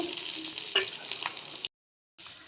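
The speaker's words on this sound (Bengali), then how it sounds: "এবার পেঁয়াজগুলো আমি ভেজে নেব" Onions frying in a pan as a cook prepares a paneer curry, giving a steady close sizzle with a brief clatter of stirring, then a short silence before the frying resumes.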